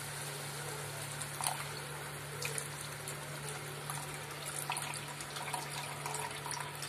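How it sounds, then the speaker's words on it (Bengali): Water being poured into a simmering potato curry makes a faint, steady trickling splash close by, over a low constant hum, with no talking. "জল দিয়ে দেব।"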